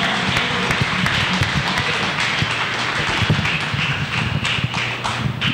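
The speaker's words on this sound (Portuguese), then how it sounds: "Pode bater mais palmas, não faça poupança de palmas" Church congregation clapping loudly and steadily, a dense mass of hands filling a hall, with some rhythmic beats and low thumps mixed in.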